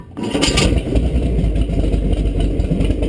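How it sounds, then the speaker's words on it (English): A Chevy V8 fitted with MSD ignition fires up and runs loud and close, its low rumble revving steadily for a few seconds with no one talking over it. "give it a little gas and fire her up."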